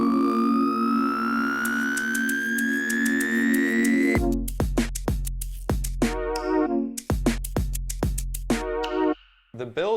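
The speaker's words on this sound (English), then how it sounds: "it culminates into this nice build or riser" A synth riser climbs steadily in pitch for about four seconds, then gives way to a run of punchy finger-drummed pad hits with deep kicks and bright sliced stabs, ending in a brief dropout.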